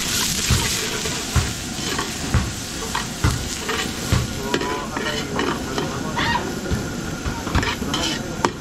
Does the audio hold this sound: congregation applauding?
no